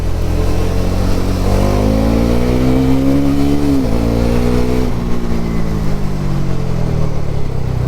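A 2024 Bajaj NS400Z motorcycle engine revs up while riding, its rising drone dropping sharply at a gear change before climbing again, loud and close under steady wind rush.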